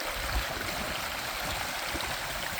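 River water flows along a Wisconsin nature trail, a steady broadband rush with low gurgles and a soft splash, close and continuous, no voices.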